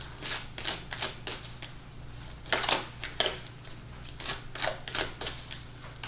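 Tarot cards are shuffled near the microphone in quick crisp riffling bursts, each a rapid run of papery flutters with short pauses between, over a low steady hum and with no talking.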